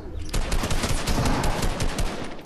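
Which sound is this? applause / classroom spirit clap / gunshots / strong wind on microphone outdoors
gunshots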